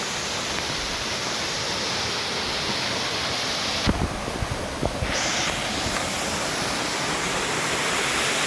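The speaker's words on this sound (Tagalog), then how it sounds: "Eto, mas mataas yung falls at mas malawak yung pagliliguan." Tenogtog Falls in Mayoyao, Ifugao roars as a dense, steady rush of falling water, loud and unbroken, with a few faint knocks partway through.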